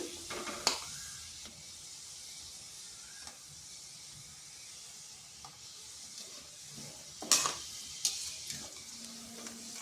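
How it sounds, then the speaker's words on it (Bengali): Sweets made from flour and sugar deep-frying in oil, a faint, steady bubbling sizzle with occasional light clicks and taps from a utensil. "এগুলোকে একটু সময় ধরেই ভাজতে হবে না হয় ভিতরটা কাঁচা থেকে যাবে"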